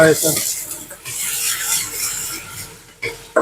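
Chopped onion and porcini mushrooms fry in a pan with a soft sizzling hiss, broken by rasping scrapes and stirring strokes of a utensil against the pan.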